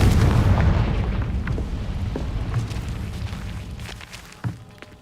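A Confringo blasting curse exploding in the Hogwarts Legacy video game, a heavy deep boom that rumbles and slowly fades, with a sharper thud near the end.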